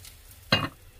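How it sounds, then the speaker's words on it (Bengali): Beaten egg poured onto an oiled pan for a Korean rolled omelette (gyeran-mari) gives a sudden, loud sizzle partway through, a close burst that lasts briefly and then eases off. "এই যে শুকায় যাচ্ছে, ভাজা হচ্ছে"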